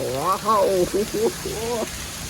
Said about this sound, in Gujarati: પહેલો વરસાદ પહેલો વરસાદ